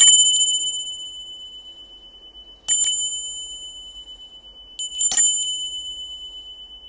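A small bell rings clearly three times, each a bright, sustained ding that slowly fades, spaced a couple of seconds apart in an otherwise quiet room.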